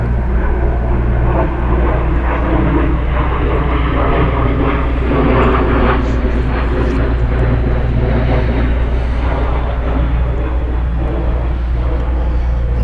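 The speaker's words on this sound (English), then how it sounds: "Sometimes you have to pause for the jet coming through." A jet aircraft passes overhead with a loud, sustained roar that holds steady throughout and drowns out other sound.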